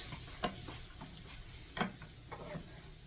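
Hamburger gravy thickened with flour simmers in a pan with a soft, quiet sizzle. A few faint scraping stirs break through it, and no one speaks.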